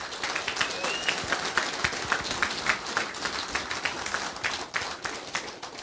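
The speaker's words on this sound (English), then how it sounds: "Round of applause for these young people." Sustained applause from a crowd at a city council meeting, dense steady clapping filling the whole stretch with no pauses.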